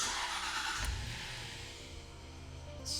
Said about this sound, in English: It fires up like a brand new car.